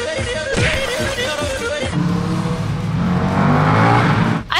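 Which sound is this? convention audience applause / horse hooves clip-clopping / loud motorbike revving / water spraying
loud motorbike revving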